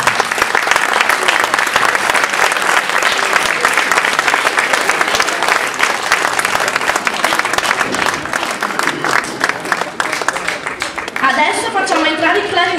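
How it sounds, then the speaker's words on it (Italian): Loud, sustained audience applause fills a hall as young music students of a town band enter the stage at a school show in Quargnento, steady and dense throughout, with a few voices and a brief musical flourish near the end. "accogliamoli con un applauso"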